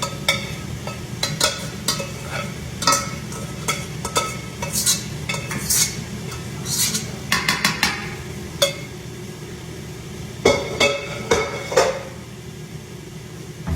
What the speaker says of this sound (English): now I'm just going to mix this up with my meat